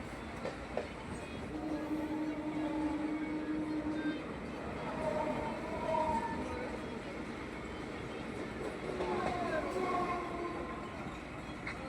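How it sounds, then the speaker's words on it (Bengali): A Budge Budge–Sealdah local train running through Kolkata, carrying a loud, continuous rumble with clattering wheels and intermittent faint squeals and whines, steady throughout. "বজবজ শিয়ালদা লোকাল"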